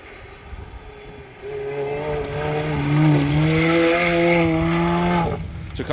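A Mini R53 rally car approaches on a Welsh rally stage, its engine note rising from distant to loud and clear, with gear changes shifting the pitch before it cuts off.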